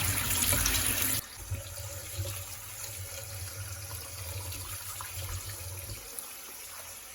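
Tap water runs steadily over raw shrimp in a bowl, first as a loud, bright gush and then as a softer, continuous stream with light splashing, close by and without speech.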